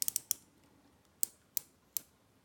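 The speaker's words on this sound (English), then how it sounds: "the bezel action with the stainless steel model sounds much better" Stainless steel watch bezel on a Tevise T801A turned by hand, giving sharp, close ratcheting clicks: a quick cluster of four at the start, then three spaced single clicks, all quiet and otherwise silent.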